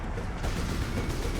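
Gunfire from Warhammer 40k: Space Marine, a dense, loud stretch of rapid shots and impacts filling the whole moment with no voices over it.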